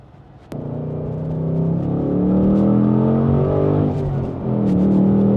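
A manual Ford Mustang Dark Horse with its Coyote V8 revs up hard from the cabin, a sudden loud engine roar climbing and holding steady, then dipping briefly before pulling again, with no talk.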